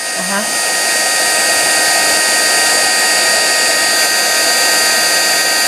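A heat gun blows hot air for embossing glitter ink on a craft project, a loud, steady whirring hiss with a high whine that starts abruptly and runs unbroken.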